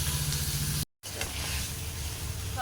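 Ribbonfish pieces frying a second time in hot oil give a steady, close sizzling hiss that drops out for a brief gap, then resumes.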